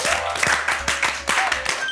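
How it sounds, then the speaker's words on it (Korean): An audience bursts into applause at a studio dance show, with sharp clustered claps and cheering in quick uneven bursts throughout. "큰 박수 부탁드립니다"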